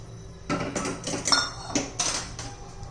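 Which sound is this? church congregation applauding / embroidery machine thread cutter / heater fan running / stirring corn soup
stirring corn soup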